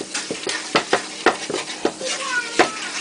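Butter melting in a pan of meat drippings for homemade gravy: a soft, steady sizzle runs beneath repeated scraping strokes of a utensil across the pan bottom, close and fairly loud, with a faint voice at one point.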